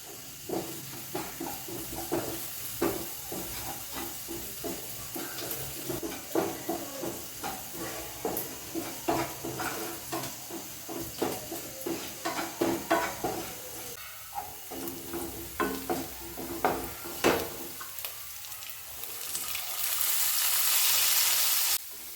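Sliced onions fry in a pan for a mushroom masala, sizzling steadily while a utensil stirs them in repeated scraping strokes, ending with a louder, hissing swell of sizzle.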